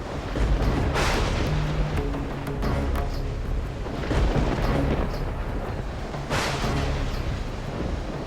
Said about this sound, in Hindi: अचानक आया हुआ तूफान किसी नए संकट का संकेत तो नहीं है?